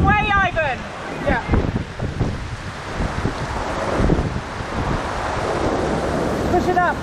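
Strong wind roars steadily against the microphone aboard a sailboat, with rushing, surf-like noise throughout and a few voices speaking briefly near the start and end.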